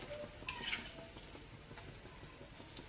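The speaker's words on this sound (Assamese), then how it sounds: "অলপ ৰঙচুৱা কালাৰ এটা অহালৈকে এনেদৰে ভাজি থাকিম" Batter-coated bitter gourd slices frying in hot oil, a soft steady sizzle with light clinks of a utensil against the pan, quiet and close.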